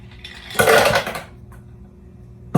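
Ice clattering into a blender jar for a plantain smoothie with milk and sugar, a brief loud rattling burst of cubes hitting the container, then a quieter pause and one more knock at the end.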